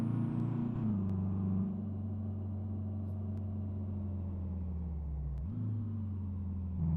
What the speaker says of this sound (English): Why is my car so loud?